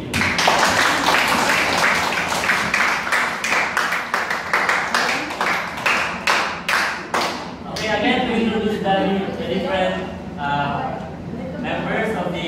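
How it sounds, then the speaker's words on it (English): A round of audience applause closing a British Parliamentary debate, dense clapping that thins into scattered individual claps before a voice begins speaking. "let's end their debate with a big round of applause."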